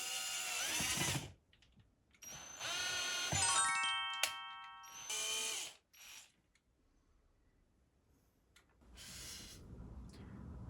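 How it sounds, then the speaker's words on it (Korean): A power drill bores holes during home decorating work such as fitting switch covers, a boiler cover and picture frames, running in four loud bursts with a whining motor tone and quiet pauses between them. "일단은 구멍을 다 뚫었어요"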